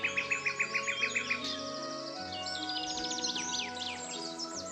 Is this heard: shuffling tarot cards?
no